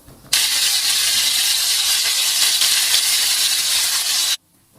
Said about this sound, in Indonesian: panaskan minyak goreng dan tumiskan bumbu yang tadi udah dihaluskan hingga tercium bau harum